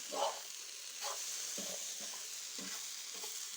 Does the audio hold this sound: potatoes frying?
yes